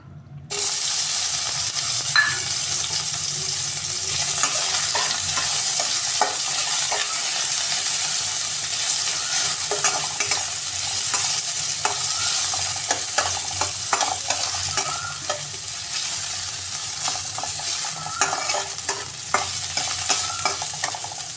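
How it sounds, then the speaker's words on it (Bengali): Continuous sizzling of bitter gourd frying in hot oil, with frequent scraping and stirring clicks throughout, close and steady. "তেল দিয়ে উচ্ছেটা ভেজে নেব।"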